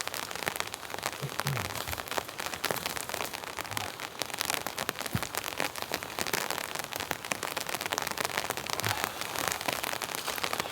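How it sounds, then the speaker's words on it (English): Steady rain patters on a tent at a winter camp during a storm, a dense, continuous hiss of drops with occasional sharper taps, close and unbroken, with no voices. "And it looks like it's turned to rain, unfortunately."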